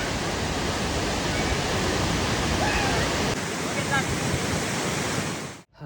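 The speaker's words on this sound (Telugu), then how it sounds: "ఫైనల్ గా వాటర్ ఫాల్ దగ్గర నుంచి ఎలా ఉందో చూసేయండి" A steady, roaring rush of falling water fills the air, loud and constant from start to finish before cutting off abruptly.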